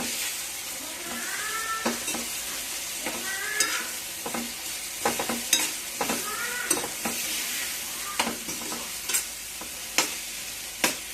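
A spoon stirs gongura (sorrel) leaves in a hot pan, a steady sizzle broken by repeated scraping strokes and sharp clacks against the pan, close and fairly loud, with no talking.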